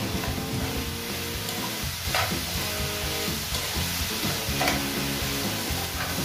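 Beef stirred with salt, pepper and sugar in a pan, a continuous dense sizzle with occasional scraping stir strokes, no speech audible over it.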